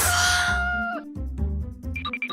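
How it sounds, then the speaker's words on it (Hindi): A rooster crows at the start in a long, loud, sustained call with a falling tail, followed by lower clucking and a few shorter crowing bursts near the end, close by with no talk. "दूसरी ओर सारे मुर्गे इतने जोर से पुकारा कर रहे थे"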